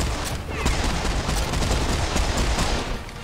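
Sustained rapid gunfire from the first-person shooter Serious Sam 4, a dense, loud, continuous barrage of overlapping shots and blasts that carries on without a break from start to finish.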